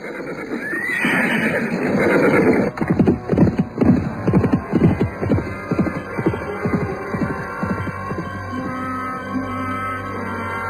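A horse whinnies near the start, then hooves clip-clop in a steady, loud rhythm through the middle, fading to quieter steps under a low background bed in an Indonesian radio drama.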